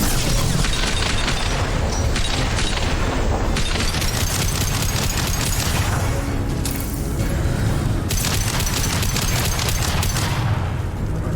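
Dense, continuous gunfire from a Mass Effect firefight, with rapid bursts and booms piling up into a loud, unbroken barrage.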